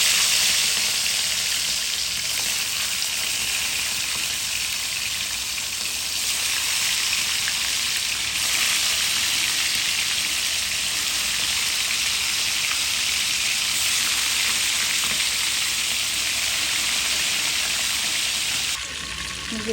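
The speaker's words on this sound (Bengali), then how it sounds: "মুরগিটা ভাজা হয়ে গেছে" Chicken pieces seasoned with salt frying in hot oil for a home-style chicken roast, a steady, loud, continuous sizzle holding evenly throughout with no voices.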